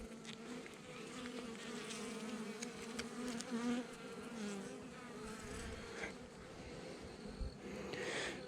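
Honey bees buzz loudly around an opened hive, a thick continuous drone of many wings close by, with individual bees sweeping past and occasional small knocks from the hive frames.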